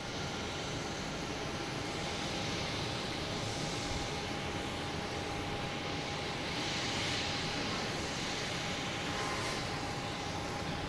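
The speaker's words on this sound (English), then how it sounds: "Another Southwest taking off." A Southwest airliner takes off at Boston Logan Airport with a loud, steady jet engine roar that holds for the whole stretch, broad and unbroken, with no voices over it.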